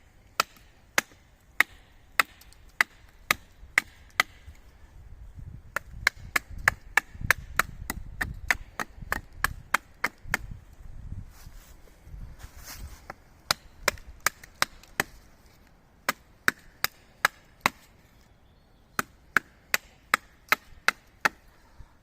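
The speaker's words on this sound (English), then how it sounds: "we're going to give this hard bit of wood, you can hear it. It's pretty hard. We're going to give this a bit of a chop on here" A British Army survival knife chops into a piece of hard wood, sharp crisp impacts coming in quick bursts and steady runs over about twenty seconds, close by with light handling noise between strikes.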